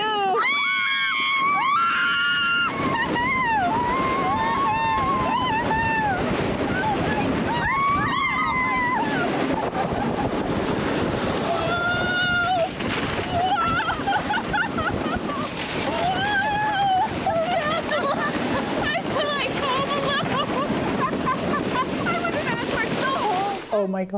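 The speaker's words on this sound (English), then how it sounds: "Listening to her scream the whole way down." Several people scream on a water ride, with repeated high shrieks rising over a loud rush of splashing water and wind buffeting the microphone, and some excited voices mixed in.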